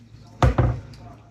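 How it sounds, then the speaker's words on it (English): Bread dough is dumped from a bowl onto a floured surface, two heavy, close thuds in quick succession, each with a short dull knock. "And now we dump it out of our bowl."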